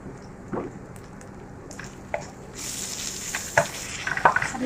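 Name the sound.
bitter gourd frying and being stirred in oil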